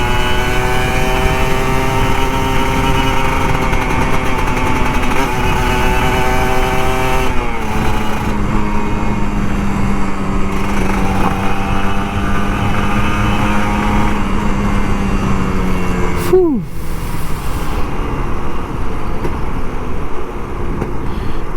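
An old Kawasaki Ninja RR 150 motorcycle engine pulls hard on a ride. Its loud, buzzing note climbs and drops through several gear changes, with a sharp dip and recovery near the end.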